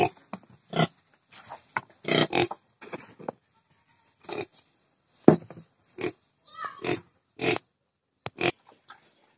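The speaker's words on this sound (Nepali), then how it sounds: "साथीहरु मैले चारो दिइसकेको छु सुँगुरहरुलाई" Pigs on a farm eat freshly mixed feed, giving repeated loud grunts, snorts and squeals in short irregular bursts with near-silent gaps between them, close to the listener.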